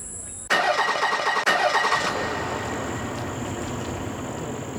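A police car's engine cranks and catches with an abrupt roar, a second jolt, then settles into a steady mid-pitched rumble as the vehicle pulls away in Port Harcourt, Nigeria.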